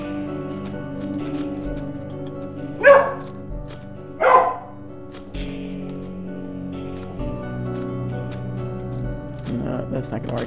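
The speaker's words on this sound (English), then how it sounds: "My dog's whining at me." A dog whines and gives two sharp barks in a room, close and loud, amid a steady hum and quiet background talk.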